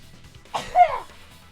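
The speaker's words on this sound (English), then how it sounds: "I'm gonna fucking sneeze." A single sharp sneeze bursts out close to the microphone, a quick intake followed by a loud explosive release lasting under half a second, with quiet room tone before and after.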